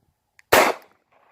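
A single sharp shot from a Taurus G2c pistol cracks loud and close, then fades quickly into silence.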